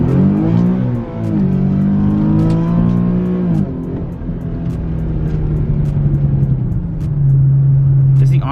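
A car engine revs up loudly and climbs in pitch, drops briefly, then pulls hard again with a steady roar, close by.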